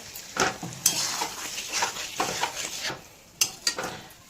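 Pabda fish curry with potato and eggplant simmering in a pan on a low flame, stirred with bursts of scraping and utensil clicks over a faint sizzle, fairly quiet and close, with no talking.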